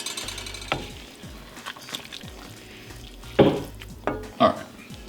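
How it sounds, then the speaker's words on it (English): A spoon scrapes and stirs chicken, sausage and rice in a pan over a low sizzle, with several louder scraping strokes toward the end, close and moderately quiet. "I'm actually gonna stir it around."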